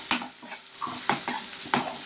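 Sliced onions sizzle in hot oil while a spoon scrapes and stirs them around the pan in several quick strokes, close up.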